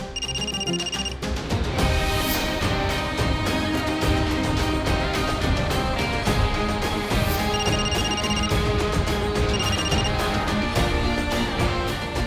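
A phone ringtone plays continuously, a dense electronic melody with repeating bright tones, loud and steady throughout.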